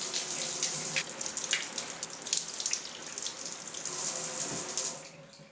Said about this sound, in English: I went and took a shower.